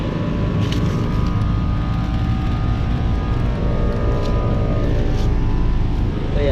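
A 2018 American Standard Silver 14 four-ton air conditioner runs outdoors, producing a steady, close, droning hum from its compressor and fan with no change in level throughout.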